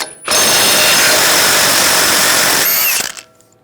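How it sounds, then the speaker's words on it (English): A 36mm socket on a ratchet or power tool spins a nut off a 2011-2018 Ram 1500 front steering knuckle, a loud, steady mechanical whirr lasting about three seconds before cutting off, with no talk. "Using a 36mm socket, I'll take this nut off."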